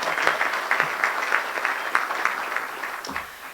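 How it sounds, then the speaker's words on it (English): A roomful of people applauds at a Christmas breakfast, a dense, steady clapping that holds for several seconds and fades slightly at the end. "can we all do a round of applause for Rita"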